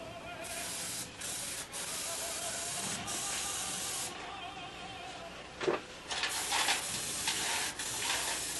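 An aerosol spray paint can hisses in long continuous bursts with brief gaps, then shorter sprays near the end. A faint voice is barely present.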